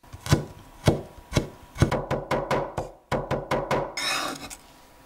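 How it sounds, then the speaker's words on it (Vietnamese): Ginger being finely minced with a knife on a cutting board: a few spaced chops that speed into quick rhythmic taps, close and crisp, then a brief scraping sweep, with no voices. "Mình băm nhuyễn một ít gừng, khoảng 10g thôi các bạn."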